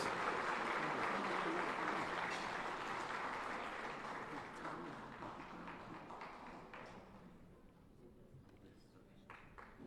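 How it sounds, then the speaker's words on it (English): Audience applause at an annual sports hall of fame induction ceremony honoring 1961 state semifinalists, a broad crowd clapping that starts full and gradually thins and fades over ten seconds, leaving a few scattered claps near the end. "let's give these gentlemen a round of applause"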